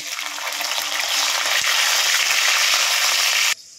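Dried chillies, garlic and five-spice sizzling hard in hot mustard oil, a loud, steady frying hiss that builds and holds before cutting off abruptly near the end.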